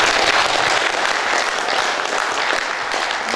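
Sustained, dense audience applause fills the hall at a poet's 70th jubilee celebration in Baku, loud and steady for the whole stretch with no voices over it.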